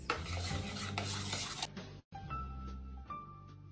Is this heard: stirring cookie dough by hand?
yes